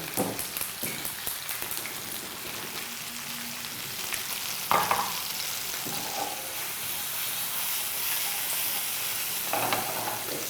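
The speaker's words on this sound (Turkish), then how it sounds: "Sosisleri daha fazla kızartmaya gerek yok." Steady sizzling and crackling of sausages frying in a hot pan, with occasional clinks and stirring sounds, no voices.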